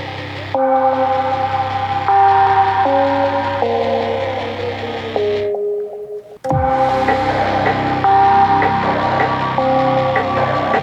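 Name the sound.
synthesizer bass preset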